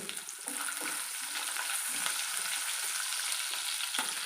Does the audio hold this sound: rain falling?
no